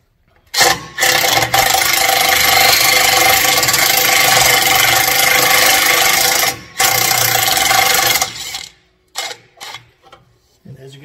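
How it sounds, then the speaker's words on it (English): An impact wrench working in reverse on rusty, corroded 15 mm sway bar bolts of a Dodge Ram 1500 with a 5.7 engine, loud and close, two long continuous bursts followed by several short choppy pulses. "Make sure my impact's in reverse,"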